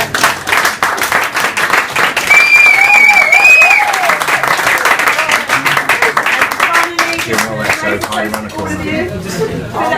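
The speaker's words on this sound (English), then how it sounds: "I think we should all give you a round of applause" A crowd applauds Dame Kelly Holmes at a gathering after the Ride25 London to Paris charity cycle ride, loud sustained clapping with whoops and cheers rising over it, tapering slightly toward the end with voices mixed in.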